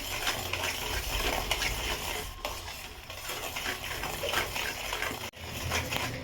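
A spoon stirs sweet potato sheera with raisins, pistachios, cashews and almonds in a pan, a steady close scraping and shuffling that carries on throughout with faint clinks and no talk.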